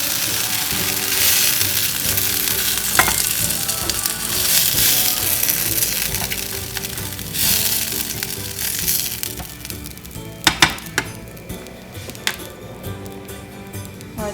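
Food frying in a pan on a home stove, a steady hiss and sizzle with scattered crackles and a few sharp pops near the end, fairly close and without speech.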